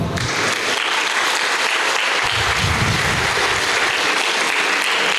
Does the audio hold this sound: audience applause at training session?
yes